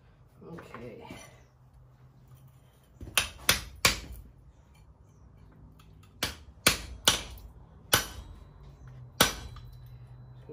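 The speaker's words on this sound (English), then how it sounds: "Use my slot chisel to fuller in a rough groove" Sharp metallic hammer strikes on a slot chisel fuller a groove into forged metal for a lock plate, arriving in two clusters of ringing blows, three then five, close and distinct over quiet background.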